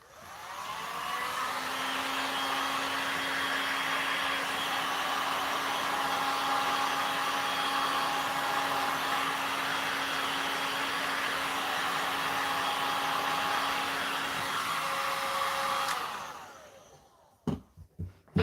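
Heat tool warming resin, a steady close blowing whoosh with a constant hum that runs unbroken for about sixteen seconds before cutting off, followed by a few soft handling knocks.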